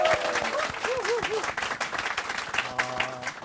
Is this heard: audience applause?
yes